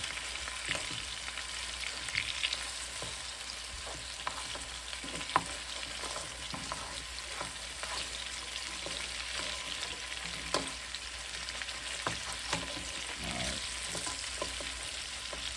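Beef neck bones fry in a pan with a steady, close sizzle and crackle, lit by irregular pops and spatters, with no voices.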